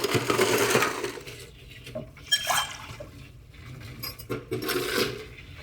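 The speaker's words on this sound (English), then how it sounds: "We're gonna wanna add some ice to stir up this cocktail." Ice cubes tumble and clink into a mixing glass holding a Rainforest Negroni made with Copalli rum and chocolate bitters, with a loud rattling rush at the start and further clattering bursts later, with no talking.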